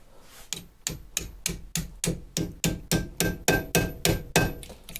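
A punch struck repeatedly with a hammer against a Lotus Evora front brake caliper during a pad change: about fifteen sharp metallic blows in a steady, speeding rhythm, each ringing briefly, close and loud, with no voices.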